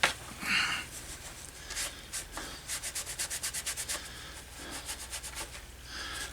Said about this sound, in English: We'll just give it a few seconds and start buffing it.